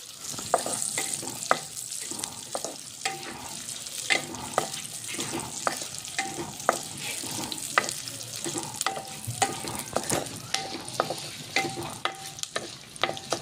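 Moong dal halwa heating in a pan while being stirred: close scraping strokes come at an irregular but steady pace over a soft, constant sizzle.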